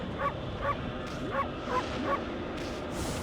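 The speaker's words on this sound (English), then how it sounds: "And yes, we can bark." A wolf barks in the video game Okami HD, five short, evenly spaced yips over a steady game soundtrack, close and clear with no talking.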